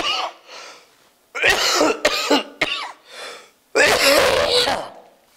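A person near a dumping yard coughs and sneezes in several harsh, close bursts separated by short pauses, sounding congested as if with a cold.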